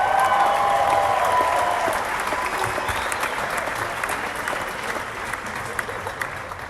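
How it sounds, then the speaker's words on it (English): A large conference audience claps at a motivational speaking event, dense steady applause from many hands filling the room, loud at first and easing slightly while continuing throughout. "You're clapping now."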